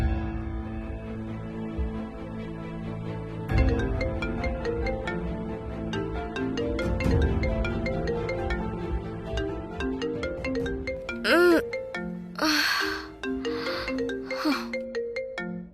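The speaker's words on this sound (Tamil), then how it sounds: "என்ன ஸ்ருதி காலங்காத்தால ஃபோன் பண்ணிருக்கா?" A phone ringtone plays a repeating melodic chime for several seconds over quiet background music in a domestic TV drama scene, with no one speaking.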